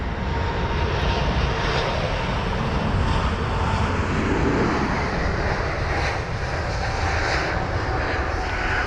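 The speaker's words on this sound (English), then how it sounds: "And off goes the Lufthansa 320neo to Frankfurt" Lufthansa Airbus A320neo departing London Heathrow for Frankfurt, a loud, sustained jet engine roar that holds steady throughout with no talk.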